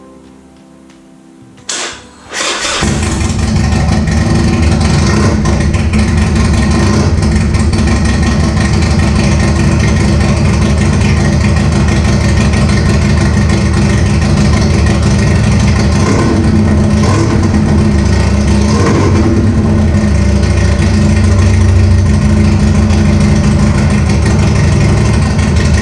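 A Harley-Davidson Sportster motorcycle engine cranks briefly, then fires up into a loud, steady, throbbing idle that runs continuously and close by.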